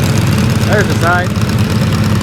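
A John Deere lawn tractor engine drones loudly at a tractor pull, a steady rough mechanical rumble with brief voices speaking over it.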